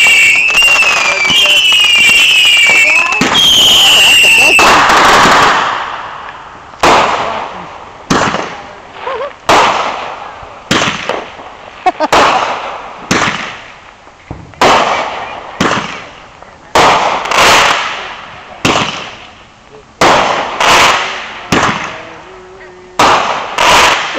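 Fireworks finale in 2009, a dense run of sharp firecracker and shell bursts cracking in rapid irregular succession, loud and close, after an opening stretch of whistling rising tones, with crowd voices and talk mixed in.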